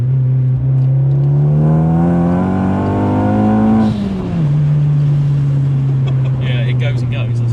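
A tuned Romeo Ferraris Abarth 595 Competizione with 280 horsepower revs up hard and close, its pitch climbing for about four seconds before dropping back into a steady drone, with faint crackles trailing behind.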